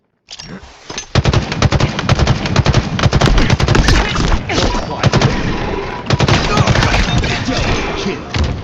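Rapid automatic gunfire fills a Halo Infinite capture-the-flag match. Dense, loud bursts repeat with short pauses and sharp impacts, and a faint voice can be heard.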